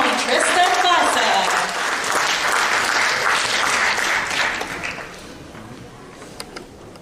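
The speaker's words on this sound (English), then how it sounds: "A round of applause for our very own Tristan Basa." An audience at an annual gala claps warmly for a performer, a full dense round of applause lasting about five seconds before tapering off into a few isolated claps.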